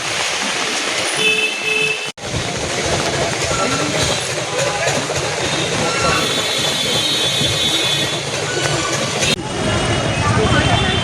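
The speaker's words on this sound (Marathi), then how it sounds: "आता आपण CST स्टेशनला पोहोचतो आहे." A train at CST railway station in Mumbai rolls close by with a loud, continuous rumble of wheels and a high squeal from the rails, while people talk nearby.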